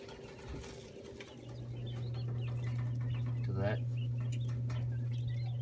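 Two-week-old, nearly fully feathered quail in a brooder, heard as soft chirps and small calls over a low steady hum from the brooder equipment, with a person talking in the same space.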